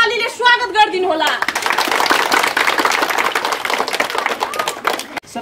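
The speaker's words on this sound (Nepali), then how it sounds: "त्यसैले सम्पूर्णलाई जोरदार तालीले स्वागत गरिदिनु होला।" An audience at a drama event breaks into warm, sustained applause to welcome a speaker, many hands clapping densely and close for about four seconds after a short stretch of talk.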